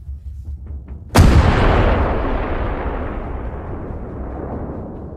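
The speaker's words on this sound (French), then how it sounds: "Les canons M777 tirent." An M777 howitzer fires a single loud, sharp blast, its boom rolling and decaying over several seconds after a quiet low rumble.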